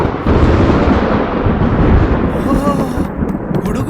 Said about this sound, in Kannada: ಗುಡುಗು ಮಳೆ.